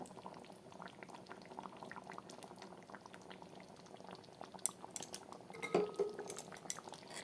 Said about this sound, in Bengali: ঘি দিয়ে আমি নাড়াচাড়া করে নিলাম